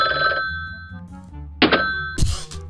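A phone ring in the Talking Ben app comes as a few short bright electronic bursts separated by gaps, loud and close, with no speech.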